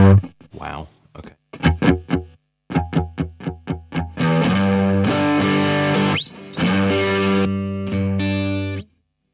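Electric guitar through two ToneX One amp modelers in stereo, starting with clean plucked notes and chords, then switching to sustained driven, distorted chords, loud and upfront.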